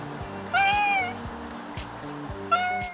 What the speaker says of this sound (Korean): 누렁이 녀석 처음에 만났던 길냥이 친구들과 더 놀고 싶었던 거구나